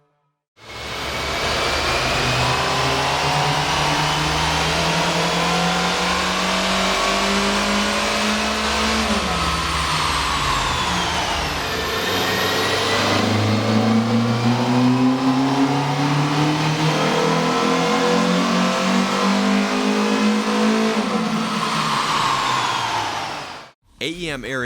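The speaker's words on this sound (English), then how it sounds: "Here's a comparison of the car's sound on the dyno with the stock OEM system versus AEM's air" A 2012 Hyundai Veloster with a 1.6L engine revs on a dyno, stock intake then AEM intake: two long loud runs with pitch climbing steadily, a brief drop between them, and a cutoff at the end.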